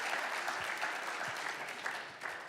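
An audience claps in a sustained round of applause for the venue, Crescent Crown Distributing, a fairly soft, even patter of many hands throughout.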